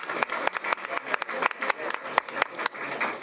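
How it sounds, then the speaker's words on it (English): Audience at a school board of education meeting applauds, a dense patter of many hands clapping at moderate distance, steady for a few seconds with faint voices underneath. "Let's give them a round of applause."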